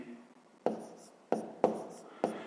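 Pen strokes writing numbers by hand while working a grade 5 math exercise: four short, crisp scratches spaced unevenly over a quiet background, close and clear.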